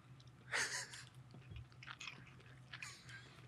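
Close-up chewing of original beef jerky: soft, moist bites and squishy mastication in a few uneven bursts, heard near and quiet against a low background hum.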